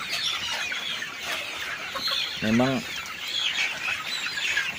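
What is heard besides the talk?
chickens clucking on a chicken farm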